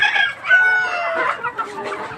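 A Rhode Island rooster crows and clucks among Hubbard chickens, a short close burst of strained calls and clucks.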